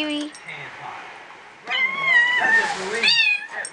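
A cat meows repeatedly while playing with a beagle puppy, with loud, close, drawn-out cries in several bursts and brief quieter gaps between them.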